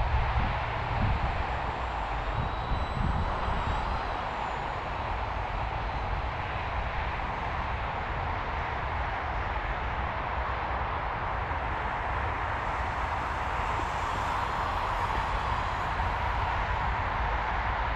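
A continuous engine drone with broad rushing noise holds steady throughout, an FMS PA-18 Super Cub 1300mm RC model airplane flying at a fairly constant distance.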